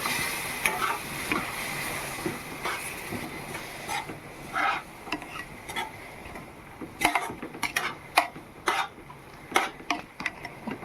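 Ladle scraping and stirring through prawn biryani in a pot, a series of irregular clanks and scrapes over a low sizzling bed, close and moderately loud, with no talking.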